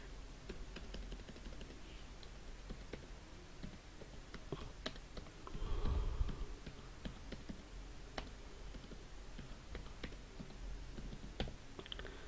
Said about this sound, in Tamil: ஸோ டைப் பண்ணிட்டீங்க.